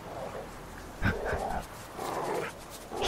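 A dog in The Witcher III: Wild Hunt lets out a few short barks and whimpering panting sounds in bursts, at moderate loudness against a quiet in-game background.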